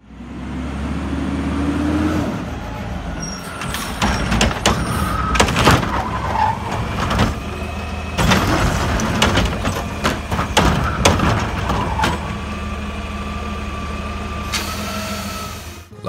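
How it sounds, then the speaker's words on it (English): A garbage truck's engine runs loudly throughout, with repeated sharp clanks and bangs from its moving parts and scraping, skidding noises over a steady road-vehicle rumble. "It seems like the garbage truck is on a mission to release its contents and declare freedom for trash."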